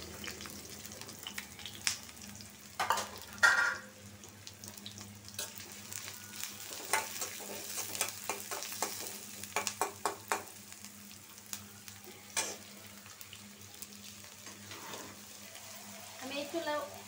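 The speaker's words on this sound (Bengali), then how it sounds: "তেলটা গরম হয়ে গেছে। রসুন কুচি, কাঁচামরিচ আর পেঁয়াজ" Chopped garlic, green chili and onion fry in hot oil in a pan, a moderate sizzle broken by stirring clatters and clicks, with someone talking at times over it.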